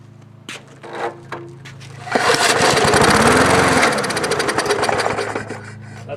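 A garbage-picked 3.5 HP Briggs and Stratton lawn mower engine being pulled and catching: a few rattling pulls, then the engine roars to life loud and close, running steadily with a slight rise and fall.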